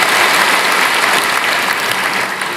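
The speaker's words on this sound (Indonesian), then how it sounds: "Berikan tepuk tangan kita untuk Tuhan." Congregation applause in a church, loud dense clapping from a large crowd held steady and fading slightly at the end.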